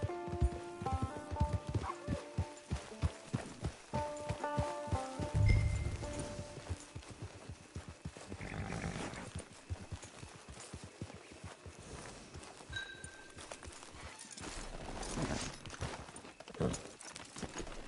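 Steady hoof clip-clops of a horse walking in Red Dead Redemption 2, fairly close and rhythmic, slowing at times, with a brief whinny and faint background sounds.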